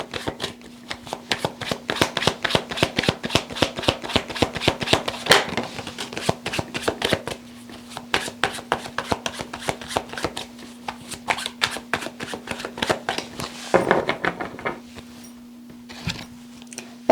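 Tarot cards shuffled by hand in a quick run of crisp riffling snaps, steady and close for most of the stretch, with a short pause and a final burst near the end beside a faint constant hum.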